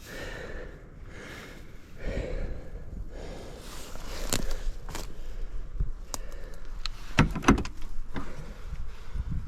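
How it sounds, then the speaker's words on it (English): The stuck door of an old Ford F-Series pickup truck on an abandoned farm is forced open, with creaks, scrapes and a few sharp knocks and clunks, close and moderately loud with no talking. "Yeah, door's a little stuck, we'll leave it."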